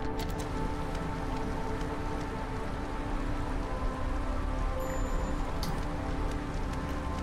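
Steady rain pours in the video game Against the Storm, a dense, continuous hiss of falling drops with a few faint clicks on top, even in loudness throughout.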